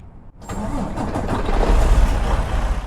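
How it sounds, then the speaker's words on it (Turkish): A Mercedes-Benz Travego 2023 bus in Euro Truck Simulator 2 cranks and catches after a brief click, its diesel engine swelling into a loud, steady rumbling idle close by. "kontağımızı açalım"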